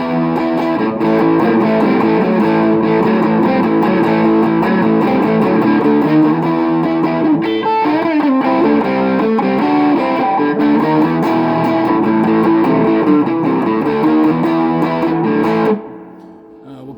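Loud, sustained overdriven electric guitar, a Gibson Les Paul through a cranked Fender Blues Jr. tube amp, with thick crunch, chords ringing continuously before cutting out near the end.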